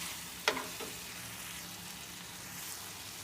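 Spices stirred into tomatoes frying in a pan for an omelette, a gentle continuous sizzle with one sharp clink of a utensil early on and a softer scrape just after.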